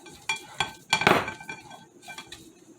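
A spoon scrapes and clinks against a bowl while mixing low carb bagel dough, giving a few short clatters and one louder stirring scrape, close and without speech.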